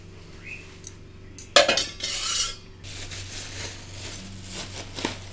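A pressure cooker lid and pots are handled in a home kitchen while cooking chickpea dal, with one sharp metallic clank followed by a second of close clattering and rubbing, then quieter kitchen background.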